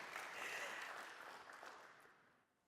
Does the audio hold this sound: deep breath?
no